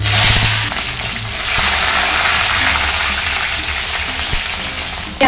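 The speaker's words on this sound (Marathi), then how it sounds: "हे आपण तेलामध्ये तळून घेणार आहे। सर्वप्रथम मी श्रावण घेवडा सोडते" Green beans sizzle steadily in hot oil while frying for a vegetable biryani, a continuous loud hiss that swells briefly near the start and then holds an even crackling sizzle throughout.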